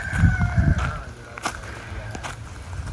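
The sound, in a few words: black chicken (Kadaknath) rooster crowing on farm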